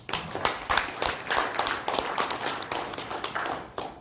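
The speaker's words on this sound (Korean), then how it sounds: "동의하실 박수 한번 주십시오." A lecture audience breaks into sustained applause of dense, rapid clapping that holds steady and close for about four seconds.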